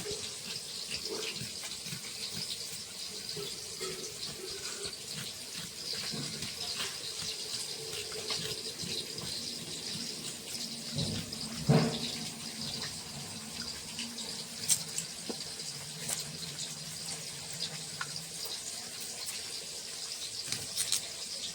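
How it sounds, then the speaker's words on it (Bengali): Cut potatoes and taro being washed under a running kitchen tap, a steady gush of water into a sink with faint splashes and occasional handling knocks. "আলু গাঠি কচু কাটা হয়ে গেছে, ভালো করে ধুয়ে নেব।"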